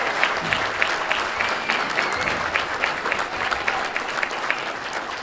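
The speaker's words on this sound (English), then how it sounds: "How about a round of applause?" An audience at a high school athletic hall of fame induction claps in steady, sustained applause filling the room, with dense overlapping claps throughout and no voices standing out.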